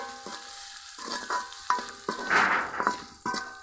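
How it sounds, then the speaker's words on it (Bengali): Garlic cloves lightly frying in hot oil, crackling in bursts of sizzle with stirring scrapes in between, close and fairly loud, no talking. "আর কয়েক কোষ নিয়েছি রসুন। এগুলো একটু হালকা ভেজে নিব।"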